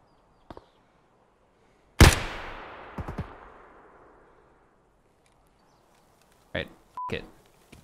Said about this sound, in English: the USEC camp is shooting at me